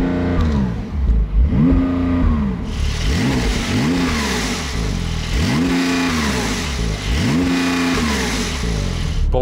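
A Porsche 992 Turbo S with sport exhaust revs repeatedly, rising and falling engine pitch in about five distinct blips, loud and close, with a brief faint exhaust burble at the start.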